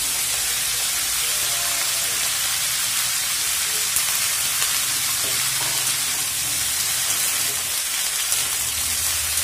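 Spinach stems fry in a pan for a Bengali palong shak ghonto, giving a loud, steady sizzle and hiss that continues without a break, with faint stirring scrapes underneath.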